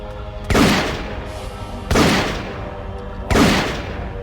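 Gunfire from the video game Metal Gear Solid 3: three loud, evenly spaced single gunshots about 1.4 seconds apart, each a sharp crack with a decaying tail over a steady game background hum.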